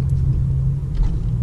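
A Pontiac Grand Prix GXP cruising on the road, heard from inside as a steady low engine and road rumble, continuous and even with no voices.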